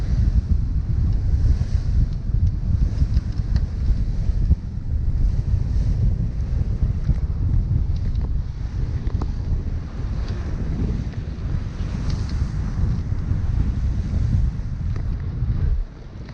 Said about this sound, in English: It is blowing. It's quite windy.